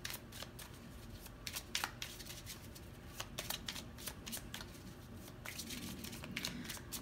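Tarot cards being shuffled and drawn by hand: rapid papery riffles and sharp flicks close to the listener, a steady run of crisp card sounds with no talking.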